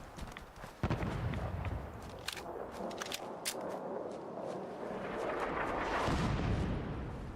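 Gun turrets firing in Fallout 4, a rapid run of sharp shots in the first seconds, then a rolling boom with a broad rumbling wash that swells toward the end.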